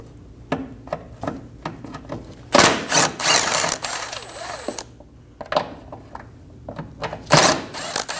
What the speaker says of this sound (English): Using a 10mm socket,